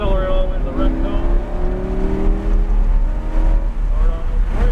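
A Lamborghini on the Texas Motor Speedway track accelerates hard, its engine note climbing steadily through the gears, loud and close, heard from inside the car with a low rumble beneath.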